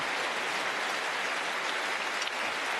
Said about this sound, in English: Listen to the roar from the Alexandra Palace crowd.